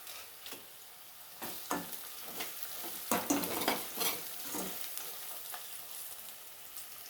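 Ground spices and dried coconut powder frying briefly in hot oil for a chicken dish, with a soft steady sizzle and a few scraping stirs of a spoon against the pan, fairly close.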